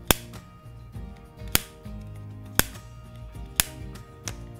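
A Sony WF-1000XM3 earbud charging case lid is closed repeatedly, producing five crisp, close snapping clicks spaced roughly a second apart against a quiet low background hum.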